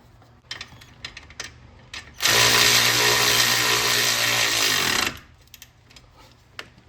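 An impact gun tightens a ball joint nut on a Kia Rondo, firing one loud hammering burst of about three seconds between quieter workshop clicks.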